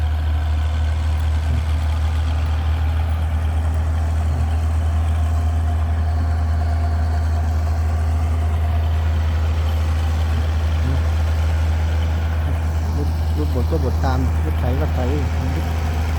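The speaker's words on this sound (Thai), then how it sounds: "รถไถเล็กดันดินแล้วก็รถบดก็บดตาม" A small bulldozer pushing soil and a road roller compacting behind it drone steadily nearby at a railway embankment build, a deep, constant engine rumble with faint scraping and clanking over it throughout.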